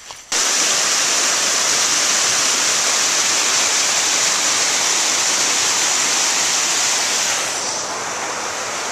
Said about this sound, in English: That's the water that's come out of the dam. Comes down this creek, under the road, down into Somerset.